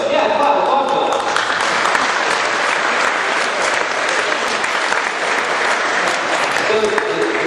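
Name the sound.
audience applause at a commencement address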